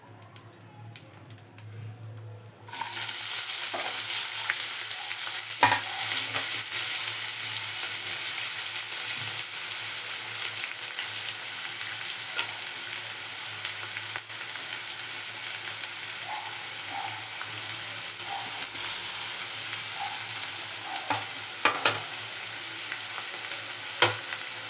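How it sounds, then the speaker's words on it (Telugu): Chopped onion and curry leaves hitting hot oil with popped mustard seeds in a pan for an egg fry, bursting into a loud, continuous sizzle with scattered crackles and pops after a quieter opening. "చిటపటలాడిన తర్వాత ముందుగా పెట్టుకున్న ఆనియన్, మళ్ళా కరివేపాకు వేస్తున్నాను."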